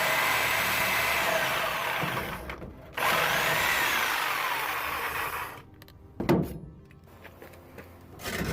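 Power tool cutting through a broken exhaust tailpipe on a Jeep Comanche, a loud steady whining grind that drops out briefly, then resumes with sharp metallic bursts and pauses.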